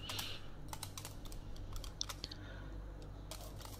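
Three eggs are hand-beaten with 150 grams of powdered sugar for bika ambon batter, giving quick, light, irregular tapping and clicking strokes up close, fairly quiet, with no speech.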